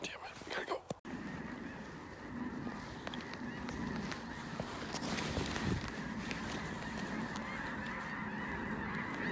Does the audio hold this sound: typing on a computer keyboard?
no